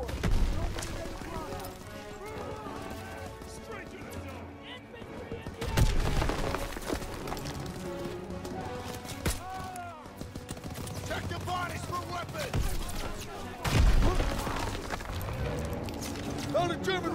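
In a World War II Call of Duty battle, gunfire crackles in repeated bursts and volleys alongside tank combat. Louder blasts break through at intervals, and voices talk over the din for most of the stretch.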